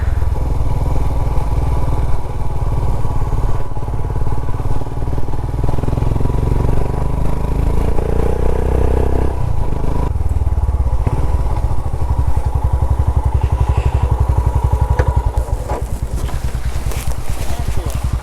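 A motorcycle rides along steadily toward a hilltop viewpoint near Kalasa, its close, continuous engine drone joined by clatter and bumps from the road.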